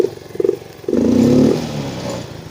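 Yamaha Mio M3 scooter engine with a hesitating, bogging fault being started: two short cranking bursts, then the engine catches with a loud close rise in revs and settles into an uneven idle.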